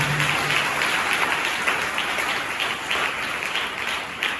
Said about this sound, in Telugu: చప్పట్లు ఉండండి.